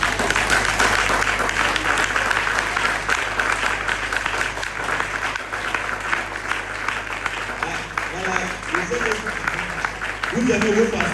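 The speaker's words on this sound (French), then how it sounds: "est-ce qu'on peut se lever pour acclamer pour la vie du pasteur Yonsois et son épouse?" A church congregation stands and applauds their pastor and his wife, with sustained loud clapping from a crowd. A voice speaks over it near the end.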